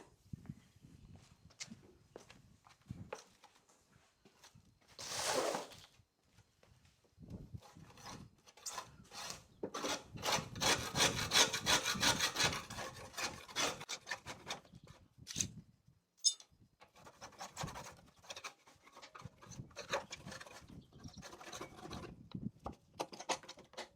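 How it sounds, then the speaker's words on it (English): A scraper works old grease off the blade spindle of an EGO Z6 42-inch zero-turn mower, giving bursts of scratchy scraping and metallic clicking that come and go, with pauses of handling noise between them. "I'm going to scrape all of this out"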